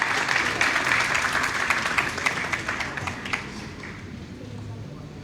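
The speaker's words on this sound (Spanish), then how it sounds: "Vamos aplaudiendo, por favor." Audience applause during a name-reading session at a lecture event, a steady wash of clapping that gradually thins and fades over several seconds.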